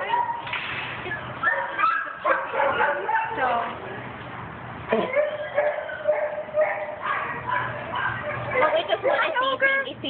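A dog at a fence barks repeatedly in short bursts mixed with whimpers and yips, fairly close, while people talk over and between the barks.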